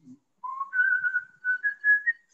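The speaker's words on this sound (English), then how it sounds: "I can hear his whistle now" A man whistles a melodic tune solo, clear and close, a sustained rising phrase broken into several held notes, preceded by a brief low murmur.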